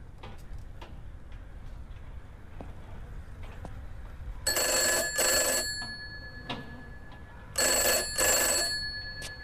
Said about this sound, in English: Was this the phone ringing earlier?